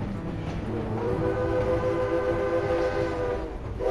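A 1907 Baldwin steam locomotive from Philadelphia, built for a lumber company, sounds a sustained harmonic whistle over the rumble of rolling rail cars, loud and continuous throughout.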